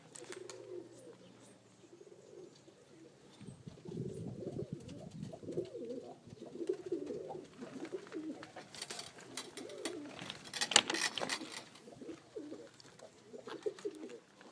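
An Iraqi Basrawi cock pigeon flies near a loft as other pigeons coo softly and steadily in the background, broken by a loud clatter of wingbeats toward the end. No speech.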